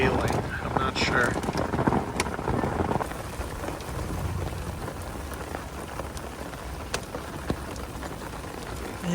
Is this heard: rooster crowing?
no